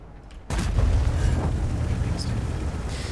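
A tank destroyer's gun firing in World of Tanks, a sudden heavy boom followed by a long rumbling roar that stays loud for nearly three seconds, with no speech.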